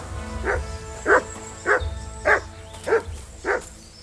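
Max the dog barks in Kingdom Come: Deliverance II, six evenly spaced barks about every 0.6 seconds, close and fairly loud over a low rumbling background.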